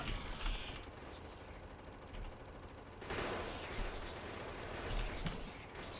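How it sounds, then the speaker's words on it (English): Turrets firing in the Factorio factory-building game, faint rattling bursts of gunfire that grow louder and denser after the midpoint, with no voices. "Stop shooting my turrets."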